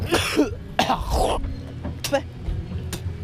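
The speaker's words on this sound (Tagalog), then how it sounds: "Inubo-ubo na." Repeated coughing and throat clearing at a year-end party, several short harsh bursts spaced over a few seconds amid background crowd noise.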